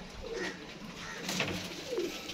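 Pigeons on a rooftop in Gujranwala give soft, faint cooing calls, two low coos spaced apart over a quiet background.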